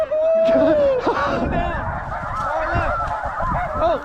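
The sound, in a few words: flock of snow geese honking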